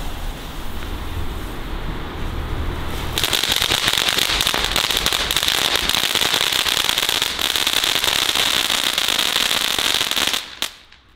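Crackling volcano fountain firework from Lidl, set off outdoors in the dark: a steady dense crackle and hiss bursts on after about three seconds and holds loudly for several seconds before cutting off abruptly.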